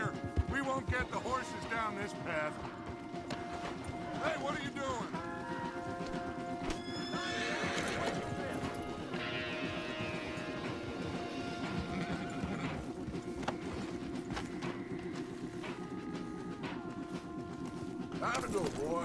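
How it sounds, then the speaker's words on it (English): Horses in the Red Dead Redemption 2 video game whinny and neigh repeatedly while hooves clop steadily on a trail, all close and fairly loud, with voices talking over them throughout. "We won't get the horses down this path"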